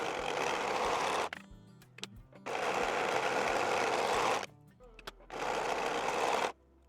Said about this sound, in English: I'm going to go ahead and serge this piece to my pocket lining